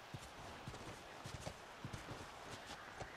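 Horse hooves clip-clopping at a walk in The Last of Us video game, a steady run of soft, close hoof falls over low game ambience.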